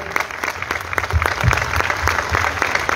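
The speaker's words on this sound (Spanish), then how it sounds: "Un aplauso, por favor" A crowd claps for a police music band at a live nativity event at police headquarters, the applause close and busy for a few seconds with individual claps standing out.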